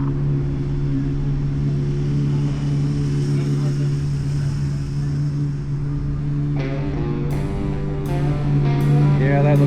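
Kawasaki motorcycle engine idling steadily with a strong low hum at a Honda Goldwing dealership, loud and constant, with sharp metallic clatter bursts near the end and people chatting in the showroom.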